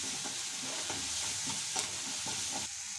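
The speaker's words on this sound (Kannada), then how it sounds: "ಅದರೊಳಗೆ ಹಾಕಿ ಮಿಕ್ಸ್ ಮಾಡ್ಕೊಳ್ಳಿ ಚೆನ್ನಾಗಿ." A ground masala paste being stirred into a curry frying in a pan, with a rhythmic series of spoon scrapes and knocks over a constant bright sizzle, close and moderately loud, with no voices.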